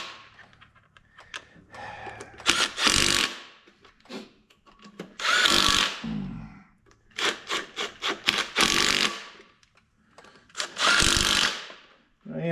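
Power tool, likely an impact wrench, tightening flywheel bolts during a rear main seal and flywheel installation: several loud, close bursts of whirring and rattling, separated by short pauses.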